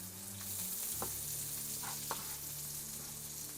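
Onions sautéing in a pan on the stove, a steady loud sizzle of frying with a couple of sharp stirring scrapes and clinks, no one speaking.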